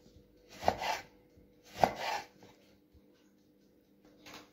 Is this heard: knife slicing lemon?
yes